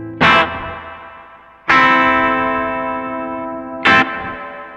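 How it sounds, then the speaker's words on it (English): Three loud electric guitar strums, each ringing out with long, washy reverb and delay tails that fade slowly between hits. "then of course we have our reverb and our delay"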